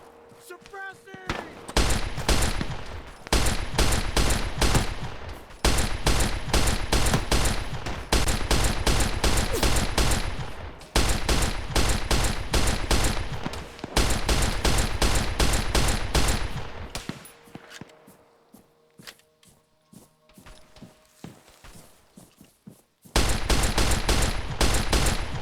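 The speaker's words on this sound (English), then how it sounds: "10mm submachine gun, go." A 10mm submachine gun firing in a video game: long sustained bursts of rapid automatic fire, loud and close, separated by brief pauses and a quieter stretch before a final burst, no talk over the shooting.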